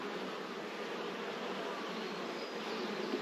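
Honeybees drone continuously inside a very full hive, a dense, even buzz heard up close and quiet throughout.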